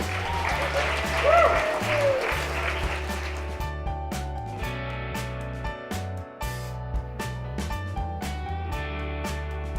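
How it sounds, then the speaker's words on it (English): Audience applause for a Super Bowl running back at a hearing-health celebration event rises over background music, thick at first and then thinning to scattered individual claps as the tonal music carries on. "Can I get a round of applause for this guy?"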